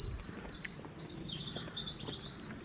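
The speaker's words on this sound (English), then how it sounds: "It does sound like a robin." A robin sings at a seaside spot in South Bay, Brixham, its high, thin warbling phrases faint and somewhat distant over a low outdoor background hum.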